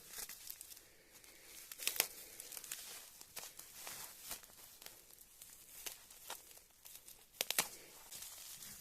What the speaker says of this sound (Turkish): yırtmaya çalışıyorum dostlar.